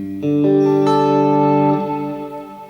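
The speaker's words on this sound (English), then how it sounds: "beautiful, cavernous reverb." Electric guitar played through a Laney Lionheart amp with an Eventide H9 pedal, a sustained chord swelling into a vast, cavernous reverb that rings on and slowly decays, loud and alone.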